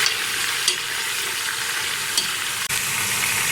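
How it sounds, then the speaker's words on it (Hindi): Half a kilo of beef frying in a pot for nihari, a dense constant sizzle with a couple of light clinks of stirring and no voices. "अब हम इसमें हाफ केजी बीफ का गोश्त डालेंगे। इसे हम 10-15 मिनट के लिए अच्छे से भूनेंगे।"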